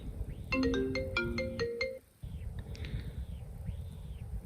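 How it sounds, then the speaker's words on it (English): The Opening ringtone on an iPhone 15 Pro plays a bright, plucked melodic phrase of rapid ascending notes lasting about a second and a half, then breaks off, with faint low background noise and soft chirping tones continuing after. "To opening."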